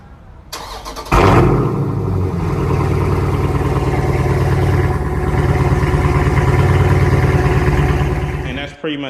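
A 2019 Dodge Challenger Scat Pack with resonators cut out fires up and settles into a loud, deep, rumbling exhaust drone that holds steady for several seconds before cutting off abruptly.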